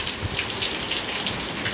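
Steady rain pattering on leaves of potted garden plants, a dense continuous hiss with soft drop impacts, close and fairly loud, no voices.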